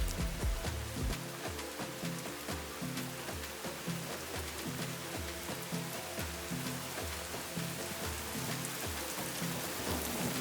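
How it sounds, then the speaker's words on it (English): Heavy rain pours steadily outside in Kenya, a dense hiss of drops drumming on surfaces with a constant roar and no voices. "it started pouring rain heavily outside"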